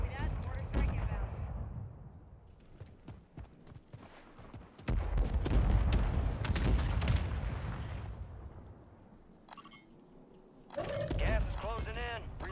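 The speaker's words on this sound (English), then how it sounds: "Mortar strike inbound." Repeated heavy mortar blasts boom through a video game battle, some near and loud, others rumbling farther off, with scattered gunfire and a game voice speaking partway through.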